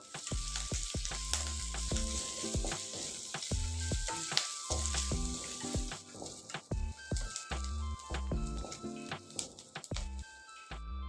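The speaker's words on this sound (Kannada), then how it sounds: "ಹಾಫ್ ಕಪ್ನಷ್ಟು ಸಣ್ಣದಾಗಿ ಕಟ್ ಮಾಡೋದ ಈರುಳ್ಳಿ ಹಾಕ್ಕೊಂಡು ಫ್ರೈ ಮಾಡ್ಕೋಬೇಕು" Finely chopped onion with chillies and curry leaves frying in hot oil as a tempering for brinjal chutney, a loud, steady close-up sizzle with frequent clicks of stirring throughout.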